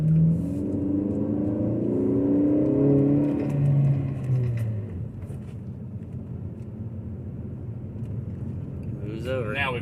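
A six-speed manual car pulls away from a stop sign, its engine rumbling and rising steadily in a close, continuous drone from inside the cabin, with a voice talking over it.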